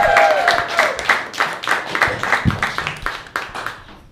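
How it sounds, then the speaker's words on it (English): Open mic comedy crowd in Hamilton breaks into applause and cheering for the next performer, a dense, sustained wash of clapping with a brief whistle early on, fairly close and loud. "ladies and gentlemen, big round of applause for Miguel!"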